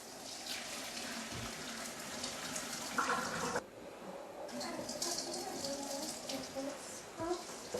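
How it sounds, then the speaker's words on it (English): Cooked spaghetti noodles poured from a pot into a colander, a steady rush of draining water that runs for several seconds, briefly dips, then continues, with faint voices underneath. "Now we drain the noodles into a colander again."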